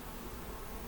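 Honey bees at an open hive hum in a dense, steady, continuous buzz heard close up.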